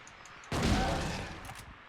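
A single heavy shotgun blast in Silent Hill 2, close and loud, booming and then fading over about a second against a quiet background.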